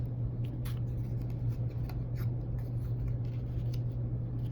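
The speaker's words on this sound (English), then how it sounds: "I could cut out some of this blue paper" Scissors snip through blue paper for an art project, a run of quick light cutting crunches over a steady low background hum.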